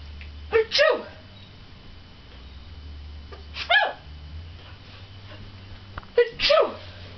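A macaw parrot sneezes three times at spaced intervals, each a short sharp burst close by, over a low steady background hum.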